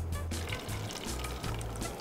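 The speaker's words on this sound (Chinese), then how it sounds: "同平时斟汽水一模一样啊！" Fizzy drink from a home soda-water maker is poured into a glass, sounding like ordinary soda. A faint, steady liquid pour with light bubbling runs for about two seconds, with no talking.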